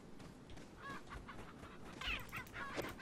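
A chicken in the Resident Evil 4 video game clucks several times in short, irregular bursts, faint and mid-distance, over quiet game ambience.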